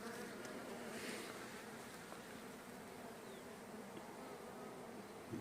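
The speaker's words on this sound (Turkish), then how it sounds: "Arı mevcutu iyi." A constant, even drone of many honeybees rises from an open hive colony, loud and close, a continuous buzz with no voices over it.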